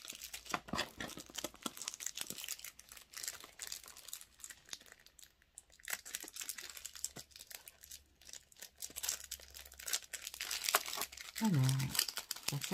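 Crinkling and tearing of a plastic package holding stamps as it is unwrapped, crisp rustling bursts close by, with someone speaking quietly at times.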